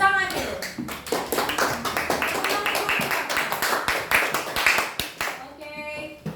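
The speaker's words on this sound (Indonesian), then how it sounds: "Tepuk tangan dulu." Classroom audience of students clapping together after a group presentation, a dense burst of handclaps filling several seconds before tapering off, with a voice speaking briefly at the end.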